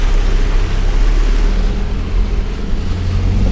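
A 4WD pushes through a shallow water crossing on the Finke River track in outback Australia, giving a steady, loud low rumble of engine and churning water throughout with no break.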